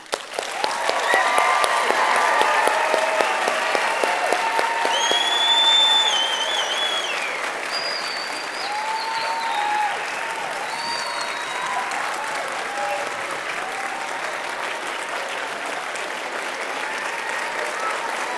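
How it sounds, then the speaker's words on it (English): Adults at a STEM event applaud students with sustained, dense clapping that is loudest at first, then eases into a steadier, softer patter that continues to the end, with a few voices and whoops mixed in. "I would like you to give your applause to the students as a show of our belief in all of them."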